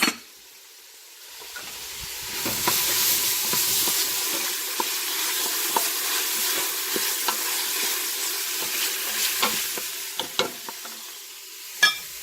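Mushrooms hitting a hot pot for sausage lentil soup bring a sudden rise into a loud, hissing sizzle that carries on with scattered clicks and scrapes of stirring, close by and without speech.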